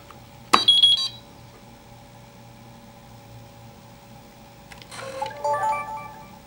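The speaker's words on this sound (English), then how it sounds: "You'll hear a series of beeps." Two bursts of high electronic beeping from a PixController VideoEye unit powering on in test mode, a short one near the start and a longer warbling run later, over a steady low hum.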